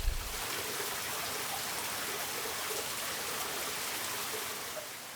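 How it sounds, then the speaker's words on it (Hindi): Water gushing from a spring between the mountains in Jordan, a steady broadband rush of flowing water that holds evenly throughout, close and continuous with no voices. "कुछ पानी जो है वो नीचे से पहाड़ों के दरमियान में से निकल रहा है और कुछ जो है वो ऊपर से आ रहा है।"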